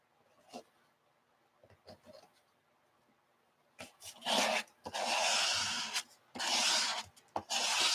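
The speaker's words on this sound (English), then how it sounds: "Let's do some scrapes." Paint is scraped across paper in several rough, rasping strokes, a few faint scrapes first, then longer loud close passes in bursts.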